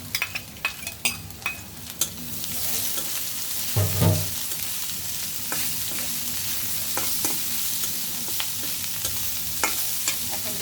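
Shrimp and water lily stems fry in a pan with a constant sizzle, while a utensil scrapes and stirs in sharp clicks, busiest in the first few seconds and then settling into a steady hiss.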